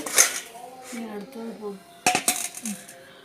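Freshly fried cassava chips are moved into a vessel with a few sharp, brittle clattering crackles and clinks, heard close under soft talking.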